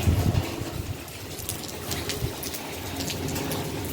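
A heavy monsoon downpour over farm fields, a dense, steady hiss of falling rain with scattered sharper drops on surfaces, continuous and fairly loud throughout.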